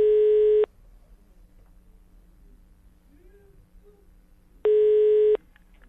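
Telephone ringback tone heard while a call is placed for a prank call: two long, loud, steady beeps several seconds apart, separated by near silence with faint background noise.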